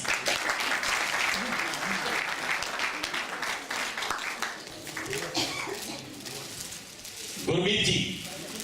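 Loud, sustained applause from a crowd at a Republic Day gathering in a Hindu temple, continuous clapping filling the room with voices mixed in and a brief louder swell near the end.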